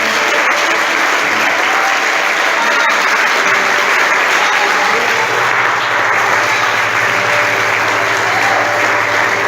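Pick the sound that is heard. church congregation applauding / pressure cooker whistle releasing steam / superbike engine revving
church congregation applauding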